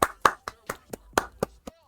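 Light, unhurried golf clap: about eight soft hand claps in an even rhythm, close by, with faint voice in the background.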